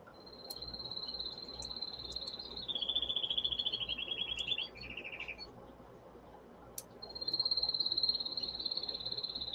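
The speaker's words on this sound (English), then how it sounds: "the birds are happy this evening" Evening birdsong sounds faint and distant: long, high, sustained trilling calls come in two stretches, separated by a quieter gap.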